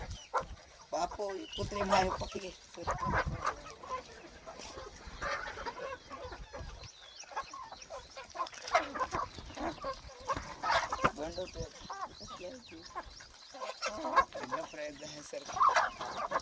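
Colourful free-range village chickens cluck and call continuously on a farm field, with several birds close by. People talk over the flock throughout.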